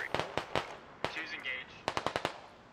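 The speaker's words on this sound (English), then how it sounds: "Camel's opening fire" Automatic gunfire in the military shooter game Squad comes in several quick bursts of close, sharp shots, with a short pause and a faint voice between the volleys.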